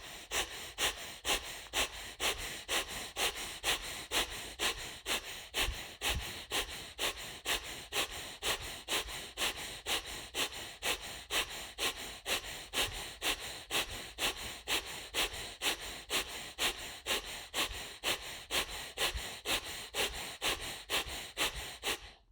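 Bhastrika yoga breathing, rapid forceful breaths through the nose pumping in a fast even rhythm, close and steady for over twenty seconds with no talk.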